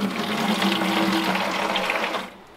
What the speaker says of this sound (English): I can turn the water hose on and fill this barrel up